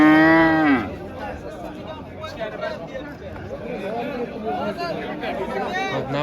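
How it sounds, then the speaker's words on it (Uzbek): A cow at a livestock market gives one loud drawn-out moo at the start, followed by a busy crowd of people chattering and talking in the background. "navbatdagi yana bola sigirimiz chiqib kelyapti"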